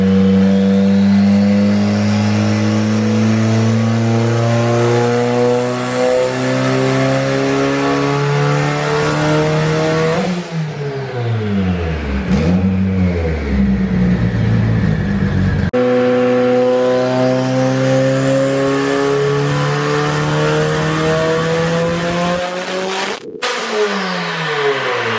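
A 1,000-horsepower Mitsubishi Evo 8 engine revs up hard on a dyno through rising pitch sweeps, drops off, then climbs again in a second loud, sustained pull.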